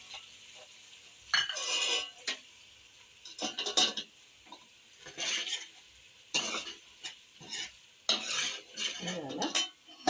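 Chicken chilli masala with capsicum stirred in a pan, with bursts of loud sizzling and scraping from the spoon against metal in irregular strokes, close up over a faint background hiss.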